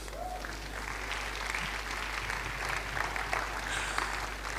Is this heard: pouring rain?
no